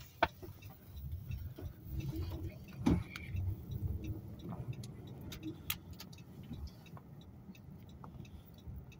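Inside a car while driving with a family aboard, a low steady road and engine rumble fills the cabin, with small clicks and ticks scattered over it and a brief thump near the three-second mark.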